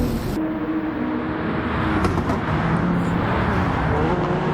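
Loud engine roar of race cars in Gran Turismo 7 sweeping past from different directions, layered and continuous, with faint patter like rain underneath.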